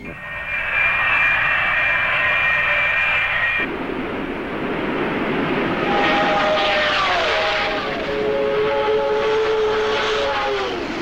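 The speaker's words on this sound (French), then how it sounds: "Avion non identifié à 11 heures au-dessus de nous." Engine drone of an aircraft passing overhead, loud and sustained with shifting tones as it moves, alone without voices.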